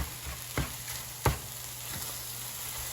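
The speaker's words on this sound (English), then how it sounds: "continue cooking and mixing until the eggs are fully set" Eggs frying in a pan for a tomato egg stir fry, a soft steady sizzle broken by a few sharp scrapes and taps as they are stirred.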